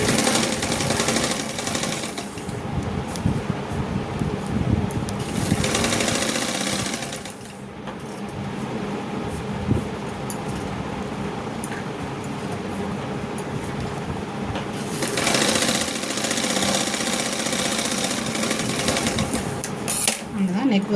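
Sewing machine stitching the lining of a blouse, steady running bursts near and loud, with pauses where the machine stops between seams.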